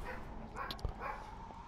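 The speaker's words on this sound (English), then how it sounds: "My dog barking" A small dog barks and yips faintly indoors, a few short sharp barks sitting under low video-game background sound.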